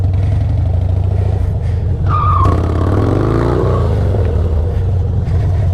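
A Harley motorcycle engine drones steadily and loudly while the rider drifts, with a brief tire squeal and a rising rev in the middle before the engine settles back to a constant roar.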